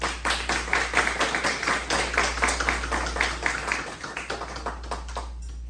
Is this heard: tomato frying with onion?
no